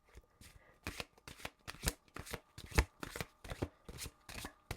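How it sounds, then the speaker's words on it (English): Tarot cards being shuffled by hand, quiet crisp riffles and slaps in irregular bursts, close and soft with no talk. "Oh, keep shuffling."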